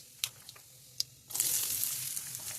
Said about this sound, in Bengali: তেজপাতা আর জিরে লঙ্কা দিলাম